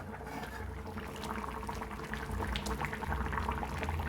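Fish curry simmering under a lid over a flame, a low continuous bubbling and burbling that swells slightly louder toward the end, quiet and steady.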